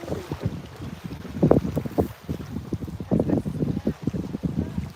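Wind gusts buffet the microphone beside a river during night fishing, uneven low rumbling blasts rising and falling close up.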